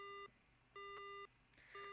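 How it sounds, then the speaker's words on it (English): A dead phone line gives repeated tones in the Spirit Hunter: Death Mark game, three evenly spaced beeps with short gaps between them. They are faint and clear, with no talking. "So yeah, phone goes dead."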